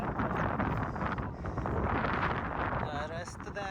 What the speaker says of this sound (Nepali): कैसा है हवा आ रहा है